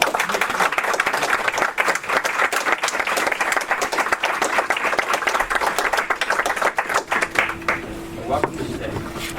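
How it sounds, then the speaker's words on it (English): Sustained applause from a packed seminar audience at a talk on intelligence in Iraq, dense and steady clapping that fills the room for nine seconds before thinning slightly near the end, with some voices mixed underneath. "so let's give him a big round of applause."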